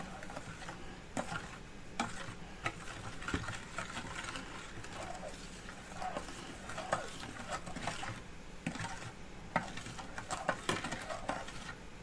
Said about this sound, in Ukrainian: І сюди ж відправляю олію. все добре перемішуємо.